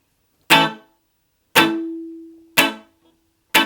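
Four short, punchy reggae chord stabs on electric guitar with no reverb, each cut off fairly quickly. A faint sustained harmonic rings between the second and third strums.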